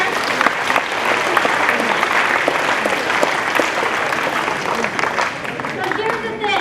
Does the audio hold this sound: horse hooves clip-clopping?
no